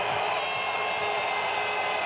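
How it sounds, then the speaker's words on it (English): Football stadium crowd at a CFL game between Edmonton and Calgary, a steady, broad roar of distant cheering that holds level throughout with no breaks. "listen to this crowd"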